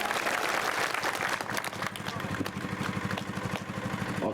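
A crowd at a political election rally in Muhasa, Shivpuri, bursts into loud, dense applause that gradually thins out, while a low engine-like rumble pulses underneath.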